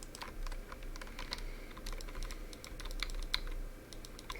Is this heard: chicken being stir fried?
no